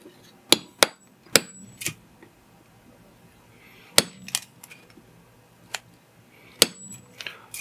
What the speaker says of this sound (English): Take the center punch, which is right here. I put it on the hole of where I'm going to go with this hammer.